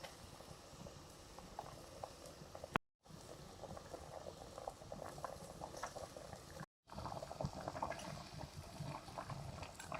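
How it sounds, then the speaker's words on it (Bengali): Curry broth bubbles at a steady rolling boil as fish pieces are added, a dense, continuous simmering texture broken by two brief silent gaps. "ঝোল ফুটে গেছে মাছগুলো দিয়ে দিচ্ছি"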